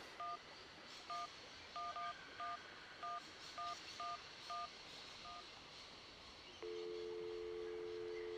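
A phone keypad in the video game Syberia beeps through about ten evenly spaced dialing tones, followed by a steady continuous phone tone over a quiet background.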